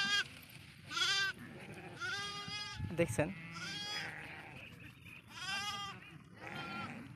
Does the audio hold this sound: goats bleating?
yes